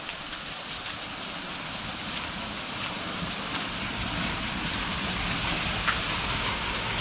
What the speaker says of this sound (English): A little bit of a waterfall of some sort.